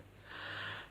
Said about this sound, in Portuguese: Eita, agora eu bocejei de verdade.